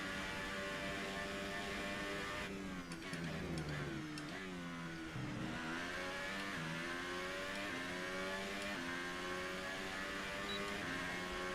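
An F1 2018 race car in the video game at the Bahrain Grand Prix, its engine screaming close and loud with repeated rising revs, downshift dips and a brief tire squeal.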